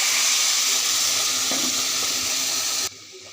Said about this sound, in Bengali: তখন আমি পরিমাণ মতো পানি দিয়ে দেব।